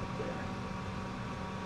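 Steady broadband whir of a Corsair H55 liquid CPU cooler with its fans running inside a PC case, a continuous even hum with faint low tonal lines, close and constant throughout.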